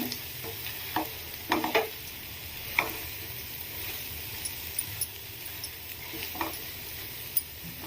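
A pan of stuffed brinjal curry fries with a low, steady sizzle while a spoon stirs it now and then, sending out several distinct scrapes and light clinks against the pan, close by.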